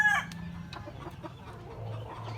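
A one-year-old gamefowl bullstag, bred from a Milsim's gold sire and a hatch green hen, gives a short loud crow-like call at the start, followed by quieter clucking against a low background murmur.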